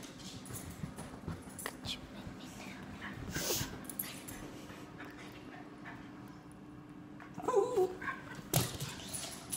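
Small dogs whimper and let out a few sharp yips and barks, faint and intermittent under low background noise, with louder bursts near the end.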